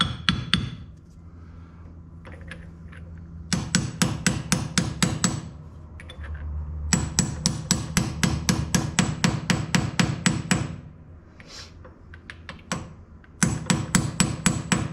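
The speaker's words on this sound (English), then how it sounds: "So you tap that down evenly till it's all the way on." A hammer strikes a socket to tap a wheel hub bearing evenly onto a Daimler Ferret hub, making loud, crisp metallic knocks in rapid bursts separated by short pauses.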